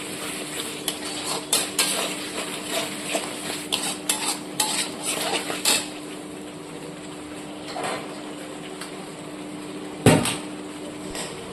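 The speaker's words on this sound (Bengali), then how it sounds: "এই চিংড়ি মাছগুলোকে এর মধ্যে অ্যাড করে দিলাম এটাকে কিছুক্ষণ কষিয়ে নেবে" Shrimp being stir-fried in spice masala in a pan for a bottle gourd and prawn curry, with a steady sizzle under repeated scraping and clinking of a spoon against the pan, close and busy, then a single sharper clank near the end.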